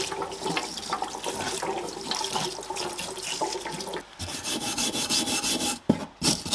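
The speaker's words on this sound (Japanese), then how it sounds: "これはパーツクリーナーじゃ落ちないんでシンナーで洗っていきます。" Thinner-soaked scrubbing of black paint from a Toyota 4A-G cylinder head cover, a steady wet rubbing and rasping with sloshing liquid, close and continuous with a couple of brief pauses near the end.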